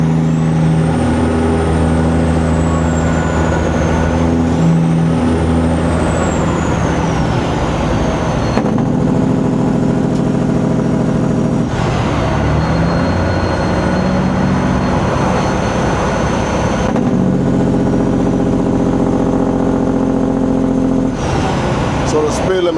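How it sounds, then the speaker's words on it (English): A heavy semi truck engine drones loudly and continuously from inside the cab, pulling a full 44,000-pound load, its pitch shifting with gear changes, while someone talks over it. "So y'all gonna hear this truck screaming, man."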